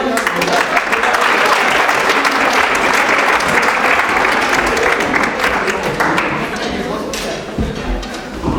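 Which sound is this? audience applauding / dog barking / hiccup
audience applauding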